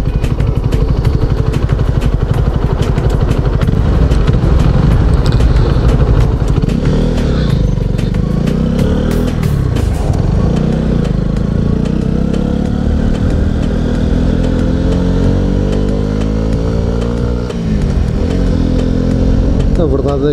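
Honda CB125R motorcycle with its stock exhaust, the engine running loud and close, holding a steady note with a few revs that swell and fall back.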